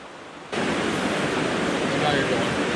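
Rushing water from a waterfall and river current at Eau Claire Gorge cuts in abruptly as a loud, steady broadband roar that fills the rest of the moment.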